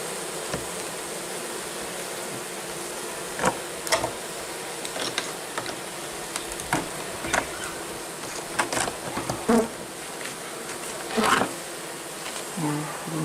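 Honeybees swarm and buzz around an opened hive during an early-season inspection, a dense, steady drone with individual bees zipping past close by, faint handling noises underneath.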